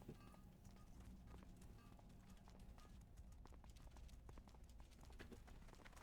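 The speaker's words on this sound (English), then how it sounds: "let's get on our horse and move back to the outpost" Horse hooves clip-clopping in World of Warcraft, a quiet, steady, rapid patter of hoof falls continuing throughout with faint background game ambience.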